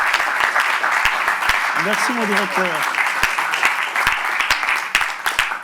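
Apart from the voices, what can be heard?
audience applause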